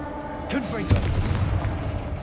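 A Confringo fire spell erupts in a video game: a whooshing sweep gives way to a heavy booming blast, followed by crackling rumble that lingers at steady loudness.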